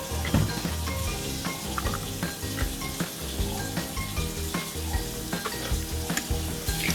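Zucchini bread batter with light sour cream being stirred slowly by hand in a bowl, a steady soft wet scraping with faint clinks, continuous and close with no talking.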